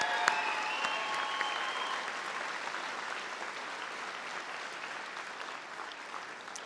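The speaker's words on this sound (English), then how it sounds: "One more quick round of applause." Graduation crowd applauding steadily in a large hall, a dense wash of clapping that holds throughout and slowly fades a little toward the end.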